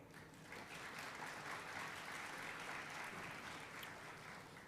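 Graduates applauding at a college commencement ceremony, a dense, even wash of many hands clapping at once, sustained and steady throughout, heard from within a large gathering.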